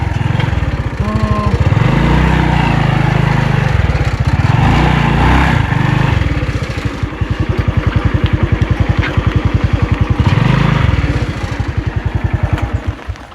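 A motorcycle engine rides along and idles, putting out a loud, close, steady throbbing putter. The pitch swells with the throttle in several passes, then settles into a rhythmic idle with ticking pulses.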